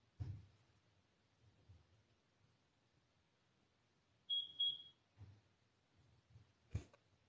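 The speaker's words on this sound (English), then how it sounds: "That kind of sounded like a smoke alarm." A smoke alarm with a dying battery gives a couple of quick, high electronic chirps in a quiet room. It sounds faint and a little distant, with no one talking.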